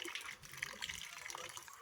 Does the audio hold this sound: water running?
yes